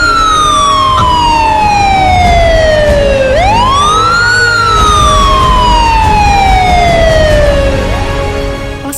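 An ambulance siren during an earthquake disaster drill on a university health sciences campus: loud, close, slow falling-then-rising wails repeated over and over, dominating a low vehicle rumble.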